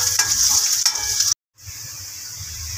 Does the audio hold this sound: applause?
no